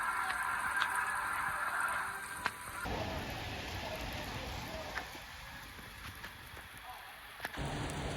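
Heavy rain falls outside an arena exterior in New York, a dense, steady hiss of drops with occasional louder taps and shifts in level.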